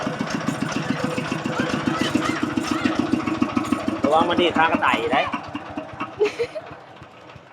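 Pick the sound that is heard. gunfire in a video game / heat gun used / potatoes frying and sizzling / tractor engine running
tractor engine running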